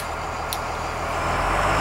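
A 2003 Thomas Saf-T-Liner front-engine 52-passenger school bus running at a raised idle, a loud steady diesel drone that swells slightly toward the end, with a brief high chirp early on.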